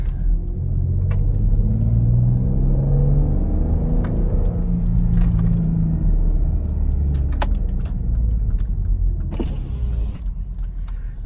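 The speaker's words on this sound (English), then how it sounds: "leave the window roll down a little bit so you can hear some of the car" A 2014 Porsche Cayenne driving, heard from inside through a partly lowered window: a low, steady engine and road rumble with wind, easing off toward the end, with a few light clicks.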